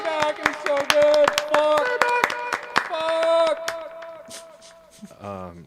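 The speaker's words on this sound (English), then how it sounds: "Give yourselves a hand. Clap, clap." A few people clap their hands in a lively studio setting, crisp individual claps in an uneven rhythm mixed with loud overlapping voices and vocal tones that carry over and past the clapping.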